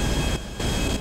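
A private jet engine in the GTA video game drones loudly and close, a continuous roaring rush with a brief dip in the middle.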